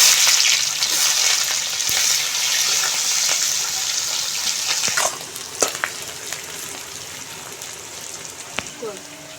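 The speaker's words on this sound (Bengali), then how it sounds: "এই পর্যায়ে দিয়ে দিচ্ছি কুচিয়ে রাখা পেঁয়াজ।" Chopped onions are tipped into hot oil with bay leaves and fried whole spices for a rustic chicken and potato curry: a loud, steady hissing sizzle that settles into a quieter crackle, with a few stirring knocks.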